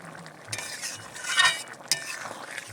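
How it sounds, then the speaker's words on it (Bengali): Curry of chickpeas being stirred in a pot, a few soft scraping and clinking strokes of a spoon against metal over a low simmering hiss, close and moderately loud. "একটু নেড়ে চেড়ে দিচ্ছি"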